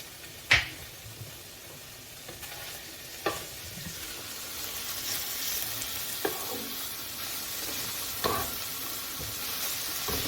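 Garlic butter melting and sizzling in a frying pan for chicken, shrimp and steak fried rice, a steady low hiss throughout, broken by a few sharp scrapes and clinks of a utensil stirring against the pan.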